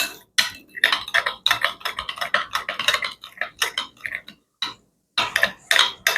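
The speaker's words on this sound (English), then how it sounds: "And stir that up." Korean beef bowl sauce ingredients stirred briskly in a bowl, a rapid, close series of bright metallic clinks and taps of a utensil against the bowl, with a couple of short pauses between bursts.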